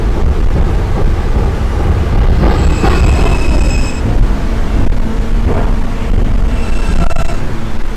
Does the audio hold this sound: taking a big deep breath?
no